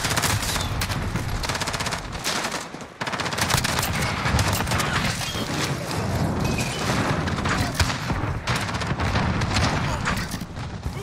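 A shotgun fires repeatedly in Call of Duty amid a chaotic online firefight, with loud, rapid blasts and bursts of other gunfire close by and a player's voice talking over the shots.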